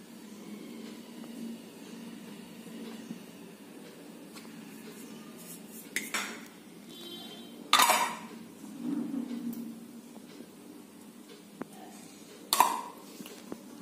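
Cornflour, maida and rice flour coating is stirred in a bowl with a spoon, making soft scraping and a few sharp clinks of metal against the dish at close range, quiet between the knocks.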